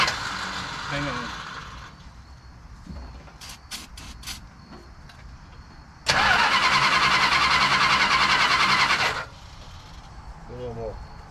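A car engine cranks and fires on starting fluid while being rewired: faint clicks and ticks first, then a loud roaring run lasting a few seconds before it cuts out abruptly, with people talking at the start and end.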